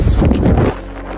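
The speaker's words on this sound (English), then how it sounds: "we have 48 miles sustained, 60 mile an hour gusts" Strong gusts of 60 mph buffet a fifth wheel RV, a loud, rough roar of wind noise battering close to the microphone that eases into a lower, steadier rumble.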